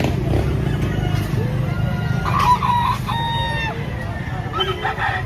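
A rooster crows at a chicken market in Lipa, Batangas, among clucking fowl and the babble of people talking nearby.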